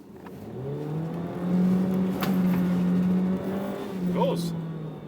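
A 2023 Honda HR-V EX-L AWD takes a turn, its engine holding a steady, loud drone that swells slightly through the bend. Voices are heard over the engine.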